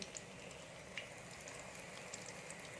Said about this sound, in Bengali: তেলটা আমার গরম হয়ে গেছে এবার আমি ছেড়ে দিচ্ছি